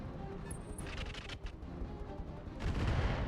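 Weapons fire from the mech combat game RogueTech, a dense run of gunfire and impacts with sharp bursts, a brief high ping, and a heavier barrage swelling near the end, with no speech over it.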